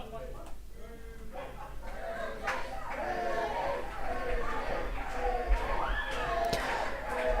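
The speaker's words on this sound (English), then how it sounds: "This crowd going wild for Rudy Root." A wrestling crowd at a 2-out-of-3-falls match roars and chatters, a building wash of cheering voices under a commentator's talk, swelling toward the end.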